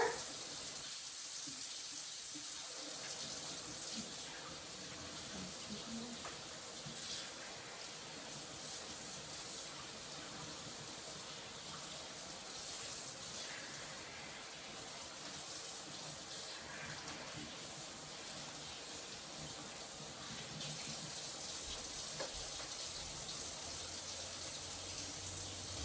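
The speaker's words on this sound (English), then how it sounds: "I'll wash my hands real quick before I do anything more." Tap water runs steadily into a kitchen sink for hand washing during cooking, a continuous hiss and splash lasting throughout with no talking.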